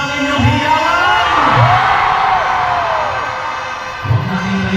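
A large arena crowd cheers, whoops and shouts continuously, loud and dense, with children's voices in the mix and swells of yelling throughout.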